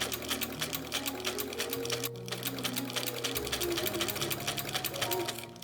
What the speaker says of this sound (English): I sewed a narrow seam against the fold that I'd ironed.